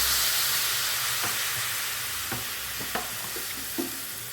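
Bottle gourd and potato curry being stirred in a pan after water goes in, a steady simmering hiss with several soft scraping stir strokes near the end, no voices.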